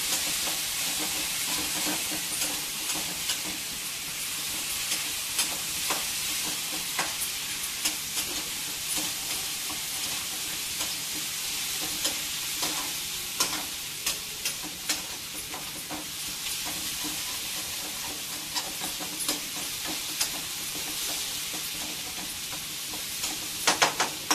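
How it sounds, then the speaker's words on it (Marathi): Onion sautéing in a pan for besan zunka, with a continuous soft sizzle and hiss and scattered clicks of the spoon stirring and scraping throughout, fairly quiet and with no talk. "आता आपला कांदा ना गुलाबीसर होत आलेला आहे, थोडा आणखीन परतून घेऊया।"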